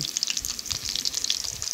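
Steady crackling sizzle of pork belly frying in hot oil, close and continuous, with faint clinks underneath.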